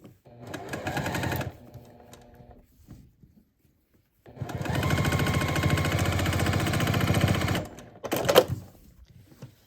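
A sewing machine stitches a quilt block in two bursts, a short run and then a longer steady rapid whirr, up close with quiet pauses and handling noise between.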